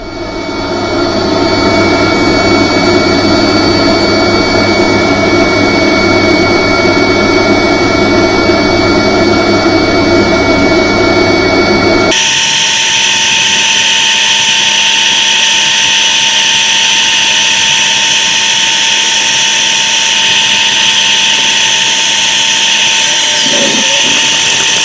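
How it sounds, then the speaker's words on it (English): An oak bowl being sanded on a woodturning lathe, working through grits from 120 to 400: a loud, steady motor whine with abrasive hiss, shifting abruptly in tone halfway through and then holding constant. "Now we're going to sand it up. We're going to sand from 120 up to 400"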